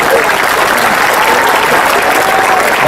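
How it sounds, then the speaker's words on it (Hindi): Dense, continuous applause from an audience at a Hindi comic poetry recital, loud and close, filling the whole stretch as an even roar of many hands with no speech on top. "एक बार तालियां बजा दे, मैं शुरू होता हूँ।"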